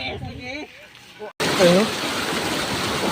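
A deep river flowing at Kawayan, where a loaded boat crosses: steady broadband rushing water fills the second half, close and continuous, while someone talks over it after an abrupt cut.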